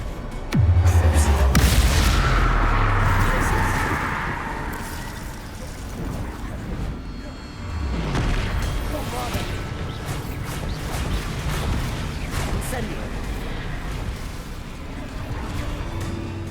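Confringo spell blasts in Hogwarts Legacy, a heavy booming explosion near the start followed by rumbling impacts and further crashing blasts at intervals.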